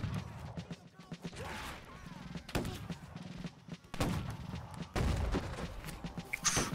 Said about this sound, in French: placez-vous sur la barricade, fusillez-les.